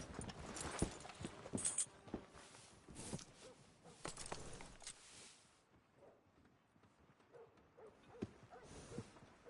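Horse hooves in the video game Red Dead Redemption 2 clip-clop at a steady walking pace, fairly close, with a few rustling and jingling noises mixed in and no talking.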